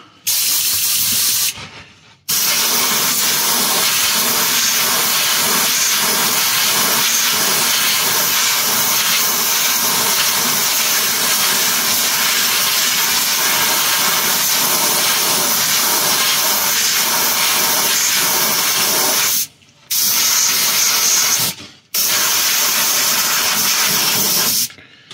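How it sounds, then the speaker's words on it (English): An airbrush sprays paint in long, steady hissing bursts, close and loud, onto a 1/60 NeoGrade Sazabi model kit, with brief breaks where the trigger is released, after the nozzle had clogged and been cleared. "To clean my airbrush, it just kind of clogged up on me a little bit."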